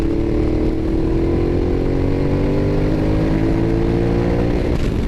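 A 2012 Ducati Diavel motorcycle pulls hard in a high gear, its loud, steady engine drone rising gradually in pitch, heavily mixed with rushing wind noise from riding at speed.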